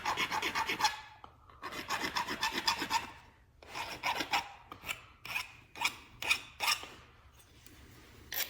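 A metal file rasps across a freshly cut metal edge in long, loud, close strokes, first in steady runs and then in shorter separate passes with brief pauses between them.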